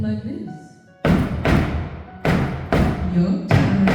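Heavy thumps imitating a heartbeat, several loud, resonant thuds in a slow, uneven rhythm, close and booming, with a voice speaking just before they begin.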